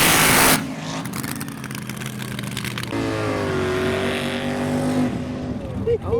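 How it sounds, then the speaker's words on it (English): A loud exposed V8 dragster engine at a car show idles with a harsh, lumpy rumble and a rising rev in the middle, close by, with crowd noise and voices around it. "So first up we've got this proper exposed V8 dragster."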